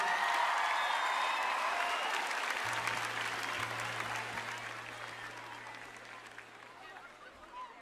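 A large audience at a Liberty University convocation cheers and applauds in a loud, dense wash that slowly fades, while a low sustained musical tone hums underneath.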